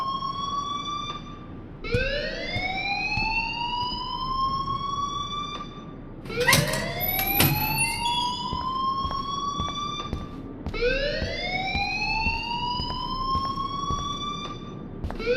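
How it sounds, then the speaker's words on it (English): An electronic alarm rings in the video game Life is Strange, sounding as a string of rising, whooping sweeps that repeat every few seconds, loud and clear with no voices over it. "please turn off that alarm since that's your job"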